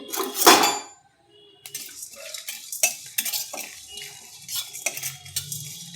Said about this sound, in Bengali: এটা আমি শুকনো খোলায় ভেজে নেব, ভেজে গুঁড়ো করে নেব।